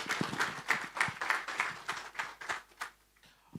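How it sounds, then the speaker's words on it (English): An audience at a bitcoin++ conference in Nairobi, Kenya applauds after a talk. The clapping is light and fairly close, a steady patter of individual claps that thins out and fades toward the end. "A round of applause for her"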